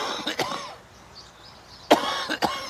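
A person coughs in two rough clusters separated by a short quiet stretch. The coughs are close and fairly harsh, with some throat-clearing mixed in, and no one speaks.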